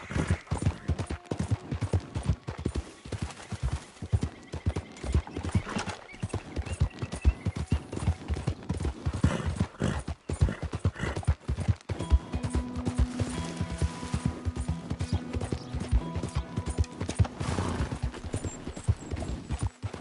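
A horse gallops in Red Dead, with rapid, continuous hoofbeats pounding close and loud in an even rhythm, plus occasional clatter and faint tonal game sounds partway through.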